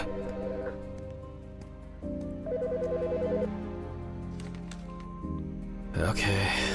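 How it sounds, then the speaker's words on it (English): Phone ringing in the video game AutoSpy Simulator: short bursts of a trilling electronic ringtone repeat over steady background game music, fairly loud and close. "The fucking phone."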